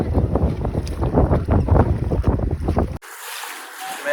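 Motorboat ride on a lagoon at Negombo in the evening, a loud, steady engine drone with heavy wind buffeting the microphone, cutting abruptly to softer wind and water rush.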